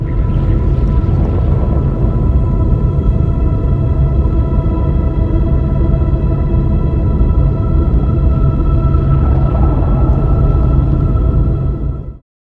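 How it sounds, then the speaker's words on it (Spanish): The black hole in the video game Fortnite gives off a constant, loud, deep rumbling drone that never lets up, heavy in the low end, stopping abruptly after about twelve seconds. "Cuando estuvo presente el agujero negro en Fortnite, si prestas atención, puedes escuchar como que la materia está en constante movimiento"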